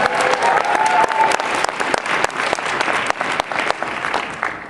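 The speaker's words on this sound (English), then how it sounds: "One more round of applause," A cosplay competition audience at Katsucon 2014 gives a sustained round of applause, loud and dense with crisp sharp claps and occasional cheers, tapering slightly toward the end.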